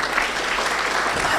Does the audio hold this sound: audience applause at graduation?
yes